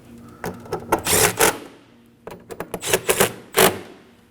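Fuel pump bolts snugged down on a 2017-2024 Nissan Armada 5.6L V8, a rapid ratchet-like clatter in several short bursts, close and fairly loud with brief pauses between.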